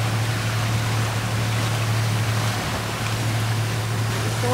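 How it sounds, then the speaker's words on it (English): A sailboat's engine drones steadily while sailing single-handed between squalls, a constant low hum under broad wind and water noise with no speech. "engine is clearly on"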